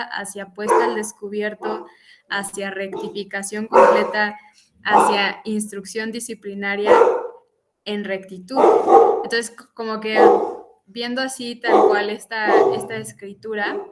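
Dogs bark intermittently in the background beneath a man's steady, continuous talking, their yaps partly masked by his voice throughout.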